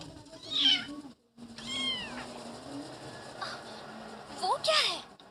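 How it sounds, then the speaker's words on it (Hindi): A small cat meows several times in high, drawn-out cries, with a steady hum and faint background noise underneath and a short gap of near silence partway through. "क्या हुआ नन्ही बिल्ली?"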